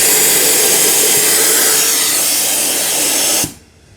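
Compressed air hisses loudly and steadily through a hose taped onto the nozzle, cleaning fuel injector holes in the engine of a 2010 Ford Fusion 3.5L, then stops sharply.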